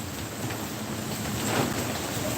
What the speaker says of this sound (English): I did not know the wind would pick up speed like that.